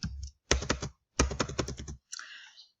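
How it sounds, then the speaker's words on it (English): Close keystrokes on a computer keyboard while working in MS Excel, coming in two quick clusters of clicks with a short final tap after them. "I'm going to type in average"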